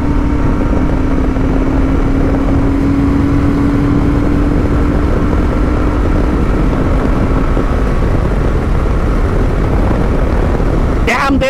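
Royal Enfield Super Meteor 650 Celestial motorcycle accelerating in sixth gear at highway speed, a steady loud engine drone buried in heavy wind blast throughout.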